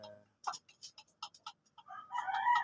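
A rooster clucks in short, separate bursts, then lets out a longer crowing call, close by in a quiet setting.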